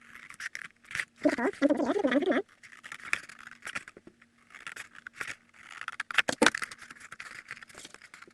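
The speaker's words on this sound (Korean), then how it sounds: "양쪽 모서리를 3등분을 해서 가위로 잘라줍니다." Scissors snip through folded corrugated paper corners while making a candy basket, giving short crisp cutting bursts with scratchy paper handling in between, close and clear.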